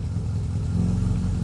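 A classic Mini's A-Series engine idles fast while cold with the choke pulled out, a steady, loud, deep rumble that holds throughout without a break.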